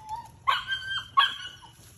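Bicolored puppies give a couple of sharp, high yips and whimpering barks, two distinct bursts close by with soft whines between them, no talking.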